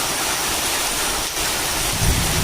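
Heavy monsoon rain pouring down on a farm field, a dense, loud, continuous roar of water with a low rumble swelling near the end.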